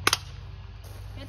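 A Colt 1908 vest pocket airsoft pistol fires at a target, giving a sharp double crack close by, then faint background noise.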